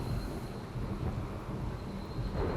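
Steady rain and low rumbling thunder from the RimWorld video game's weather fill the scene continuously, a dense wash of downpour with a distant roll throughout and no speech.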